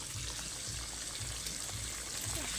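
A whole chicken roast fries gently in a pan over low heat, giving a soft, steady bubbling and sizzling that carries on evenly throughout, quiet and close with no talking.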